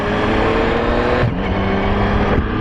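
A Yamaha MT-09 SP motorcycle being ridden gives off a loud, steady engine drone with a rough, buzzy tone, briefly dipping and recovering twice as the throttle shifts.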